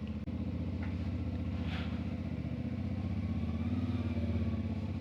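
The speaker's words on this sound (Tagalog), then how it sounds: "Ang tagal uminit ng motor natin guys." A motorcycle engine idles while warming up in the Benguet mountains, a steady low rumble with a faint rev swell, alone with no talking.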